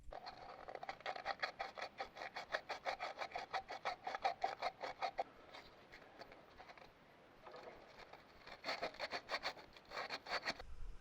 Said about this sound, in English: wrap the sandpaper around and just use like a corner of it, it'll get in or around the tighter edges